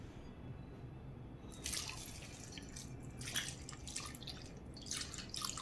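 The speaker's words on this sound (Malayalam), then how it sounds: "ഇനി നമുക്ക് ആവശ്യത്തിന് വെള്ളം ഒഴിച്ച് കൊടുക്കാം" Water splashing and trickling into a pot of pumpkin soup in a few short bursts, quiet and close, with no talking.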